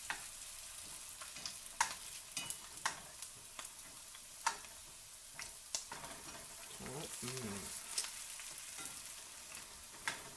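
Filipino egg rolls sizzling in hot oil in a pan as they are turned one by one, a constant crackling fry punctuated by repeated sharp taps and scrapes of the utensil, with a brief voice-like murmur partway through.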